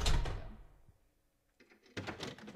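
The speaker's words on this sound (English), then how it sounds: "Door shut." A door in Silent Hill 4 swings shut with a loud heavy thud that decays into a short echoing tail, followed by quieter creaks and shuffling after a brief pause.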